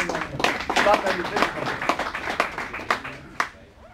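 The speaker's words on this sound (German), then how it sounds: "Nochmal letzter Applaus" Scattered hand claps and light applause from a small crowd at an ice hockey press conference, EHC Bayreuth vs. ERC Sonthofen, uneven and fairly close, with a voice talking over it.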